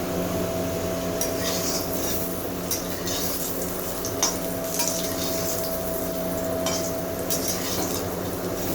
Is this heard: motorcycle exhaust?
no